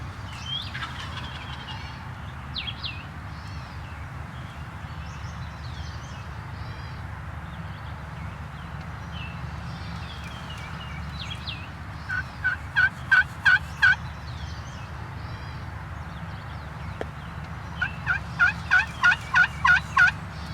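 Wild turkey gobbling in an Indiana spring woods during a bowhunt, a wary tom sounding two rattling bursts of gobbles, moderately near and loud, over a steady low outdoor hum with no voices.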